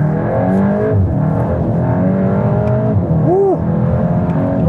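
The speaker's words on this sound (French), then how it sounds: "Ouh ! Ça accélère bien." A VW Golf GTI Clubsport 45 accelerates hard on the road, its engine note loud and steady throughout with a brief rising whine near the end, heard from inside the car.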